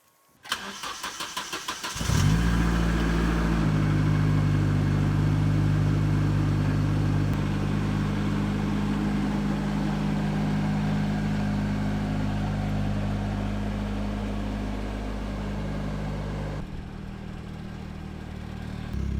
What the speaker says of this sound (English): I hate that exhaust rattle.